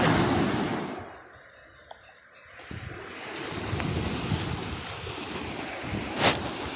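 Sea waves breaking on the shore at Alexandria, a steady broad wash of surf mixed with wind buffeting the microphone, fading briefly mid-clip before swelling again, with no voices.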